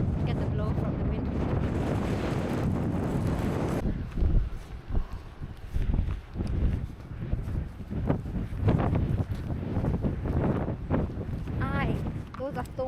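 Strong wind buffets the microphone on an exposed hillside hike near Alport Castles, roaring in loud continuous gusts with some brief rustling and faint distant sounds, no speech.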